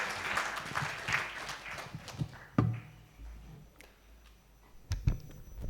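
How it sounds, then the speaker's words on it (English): Light scattered applause from an audience at a business centre launch event, faint and fading after a couple of seconds, followed by a few soft thumps and quiet room noise. "A warm round of applause for him"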